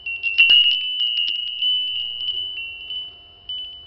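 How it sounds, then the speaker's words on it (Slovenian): Little horse-shaped bells ring with a bright, sustained metallic tone and a quick flurry of jingling strikes at the start, then a long, even ring that holds steady until the end. "Tele zvončke s podobo konja"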